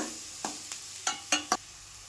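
Garlic frying in a little oil in a pan sizzles faintly beneath a few quick scraping stirs of a spoon, heard up close.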